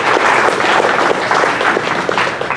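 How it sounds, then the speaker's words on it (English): Dense, continuous audience applause at a hacker security conference, loud and evenly sustained from a large crowd with no talk over it. "So applause for them, please"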